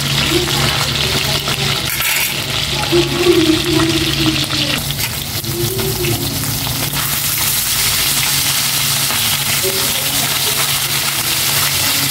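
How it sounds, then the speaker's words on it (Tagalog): Steady sizzling of galunggong (round scad) fish frying in hot oil fills the clip, with occasional clinks and knocks from a pan or utensils. "Prito ko na itong galunggong naman."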